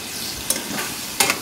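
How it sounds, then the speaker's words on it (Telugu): A ladle stirs tomato curry in a hot pan over a soft steady sizzle, with two quick scraping strokes close by and no talking. "ఇప్పుడు ఈ మొత్తం కలిసే విధంగా గరిటతో కలుపుకుందాము."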